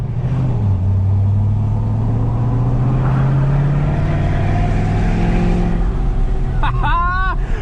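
A tuned, deleted 6.7 Powerstroke diesel truck weighing about 8,000 pounds accelerates from inside the cab, its engine note climbing loud and close in a long pull before easing off, followed by a brief voice.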